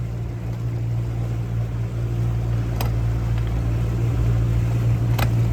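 A motorboat runs across the water at speed, its engine a loud, steady low drone with a constant hum and wind rush, near and continuous with no talking.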